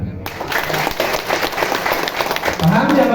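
An audience at a company marketing presentation breaks into a brief burst of clapping, a dense patter rising under a speaker's voice in a hall.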